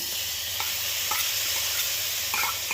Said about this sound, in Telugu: పెసరపప్పు కూడా కొంచెం ఫ్రై అవ్వాలి